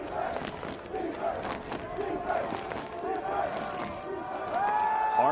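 A football stadium crowd at an NCAA Division III semifinal roars and yells continuously, a loud rolling wash of cheering voices with chant-like swells rising toward the end.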